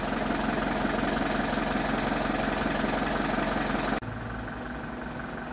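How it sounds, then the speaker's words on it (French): A camper van engine warming up in a snowy garden idles with a steady rumble at close range, then the tone abruptly drops and settles into a slightly quieter, even idle. "Je vais laisser un peu le moteur chauffer."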